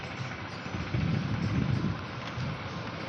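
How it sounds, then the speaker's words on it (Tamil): Steady wind blowing at a beach, a continuous low roar and rumble against the microphone that swells slightly in the middle and holds throughout, with no voices. "காற்று அடிச்சுக்கிட்டே இருக்கு பீச் சைடு இருக்கனால."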